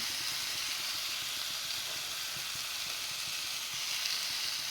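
Lentils and spices sizzle and fry in a pan, a steady close hiss of frying holding evenly throughout with no talking.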